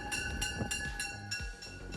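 An MBTA commuter train on the Haverhill Line pulls into a station platform near Boston. Steady rumble of wheels on rail and a bright, sustained high squeal from the brakes ring out, with faint clunks underneath.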